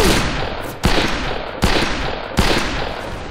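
Four loud, evenly spaced gunshots from the Western multiplayer shooter Fistful of Frags, each a sharp broadband crack with a decaying tail over steady background game noise, with no voices.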